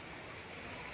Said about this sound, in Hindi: देखो बारिश, कितनी तेज़ बारिश है